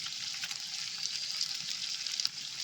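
Green and dried chilies fry in hot oil in a pot for a country chicken curry, a steady, close hiss of sizzling with small crackles throughout and no talk.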